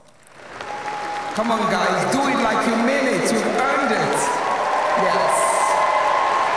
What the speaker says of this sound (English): So I'm asking that you give yourself a round of applause.